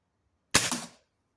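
A single sharp, loud shot from a Beeman Dual air rifle firing two pellets at once, a crisp crack with a short fading tail, alone against near silence.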